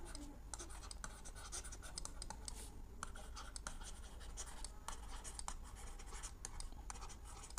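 Quiet scratchy writing on a board during a maths lesson, a continuous run of faint strokes and taps with no talk.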